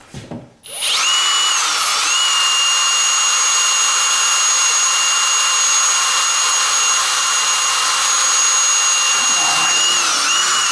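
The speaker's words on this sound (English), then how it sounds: "He's going to drill into that one." Power drill boring into old hard wood of a house during window replacement, a loud steady whine starting after a brief pause and running continuously for about ten seconds, close and alone with no talk.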